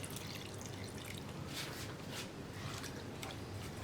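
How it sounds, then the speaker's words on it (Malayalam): Water is poured into a curry pot of tender coconut, prawns and drumstick, a faint, steady splashing and trickling throughout with a few brighter bursts, quiet and close. "ഇതിലേക്ക് വെള്ളം ഒഴിക്കുക"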